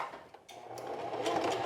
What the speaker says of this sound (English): I'm going to go back a little bit to overlap the stitching